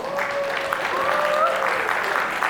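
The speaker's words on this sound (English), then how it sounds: "please give yourselves a round of applause" A convention crowd at a closing ceremony applauds charity poker winners with steady, moderately loud clapping, while a faint sustained tone runs beneath it.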